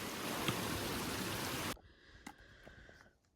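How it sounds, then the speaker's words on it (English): A river rushes loudly at a trail crossing for under two seconds, then cuts off abruptly to quieter ambience with a few faint clicks and knocks. "River crossing."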